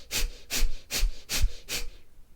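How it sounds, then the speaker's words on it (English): Kapalabhati yoga breathing: five sharp, forceful nasal exhales in a steady rhythm about every half second, each followed by a quiet passive inhale, close and clear with no talking. "a normal inhale with a forceful exhale"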